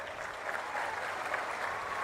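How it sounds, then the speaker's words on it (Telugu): An audience claps at a public speech, a steady, dense wash of applause that holds evenly throughout, heard at some distance and fairly quiet. "గట్టిగా చప్పట్లు కూడా చెప్పండి."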